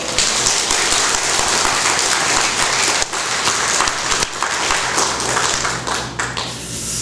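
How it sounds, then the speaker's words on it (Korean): A church congregation claps together in a sustained, dense burst of applause that holds steady for several seconds, with no voices on top. "아니, 박수 한번 쳐볼까요?"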